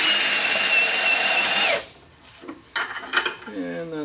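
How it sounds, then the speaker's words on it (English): Power drill boring through wood while building a wooden forge, a loud high whine that holds steady, winds down, then is followed by short scraping and knocking sounds. "Keep the drill level."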